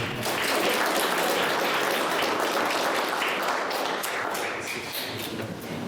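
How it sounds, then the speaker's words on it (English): A school board meeting audience gives a full, continuous round of applause for young students, loud and steady throughout before easing slightly toward the end. "Let's give them one more round of applause"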